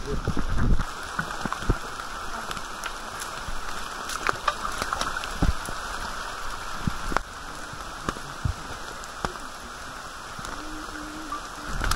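Rain falling on a mountain trail, a steady dense patter with scattered louder drops and taps on nearby surfaces, close and continuous, with no talking.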